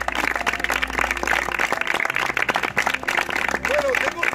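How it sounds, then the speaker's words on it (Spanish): A church congregation in Benidorm claps loudly during a baptism service, dense continuous applause filling the room while voices and a sung or spoken line carry over it. "Vamos a darle un fuerte aplauso al Señor."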